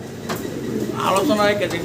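A male and a female pigeon at a large pigeon farm cooing, brief soft throaty coos close by, partly under someone talking.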